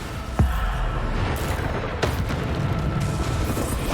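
Bombarda explosion spell cast in Hogwarts Legacy, a sharp boom near the start with a few more bursts over a continuous game backdrop, fairly loud and dense.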